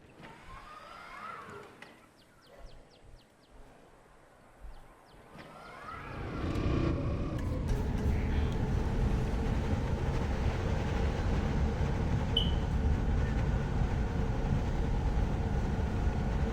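A monorail in Jurassic World Evolution 2 leaves its station: soft clicks and mechanical whirs give way to a rising, steady electric hum and rumble that holds loud and continuous as it travels.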